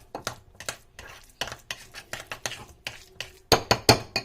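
Parsley being stirred into a burger stuffing mixture, a spoon scraping and clinking against the bowl in a steady rhythm, with sharper, louder knocks near the end.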